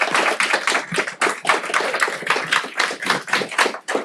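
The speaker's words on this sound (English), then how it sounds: "Big round of applause for Alexei." A small meetup audience claps in a brisk, close round of applause, individual hand claps distinct and fairly even for about four seconds.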